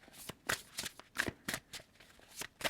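Tarot cards being shuffled and drawn, a quick run of crisp, riffling card slaps and flicks close up, about ten sharp bursts in steady rhythm with no talk.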